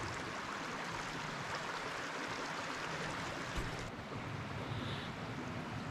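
A forest creek near an old 1860s mill dam with a submerged timber, a steady broadband rush of flowing water heard close and continuous, with no voices.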